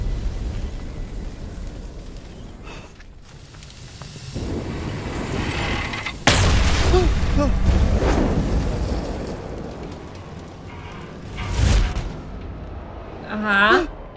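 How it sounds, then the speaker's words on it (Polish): Booming blasts from The Quarry on PS4, including a sharp loud burst midway and rumbling bursts later, mixed with someone talking throughout. "Teraz tam wszystko wybuchnie."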